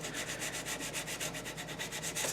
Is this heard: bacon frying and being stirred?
no